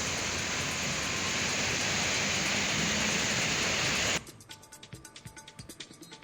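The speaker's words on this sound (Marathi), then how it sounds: "पुण्यात मुसळधार पाऊस सुरू आहे" Dense, steady hiss of heavy monsoon-style rain in Pune fills the first few seconds, then cuts to a quieter scene with rhythmic clattering.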